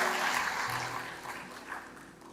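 A church congregation applauds together, a broad wash of clapping that is close and full, fading gradually toward the end.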